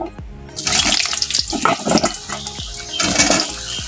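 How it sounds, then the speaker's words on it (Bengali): Potato pieces go into hot oil for a mutton kosha dish, giving a loud, continuous sizzling hiss and spatter that swells and recedes in waves over the whole stretch, alone without any talking. "তেল গরম হয়ে গেছে এখন আমি আলু টুকরোগুলোকে ভেজে নেব"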